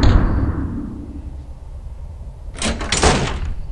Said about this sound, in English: Why do I hear doors closing?